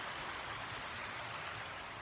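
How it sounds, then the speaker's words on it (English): A river runs beside a woodland campsite in the Lake District fells near Ennerdale and Wast Water, giving a steady, close, broadband rushing flow with no pauses and no voices. "Next to the river."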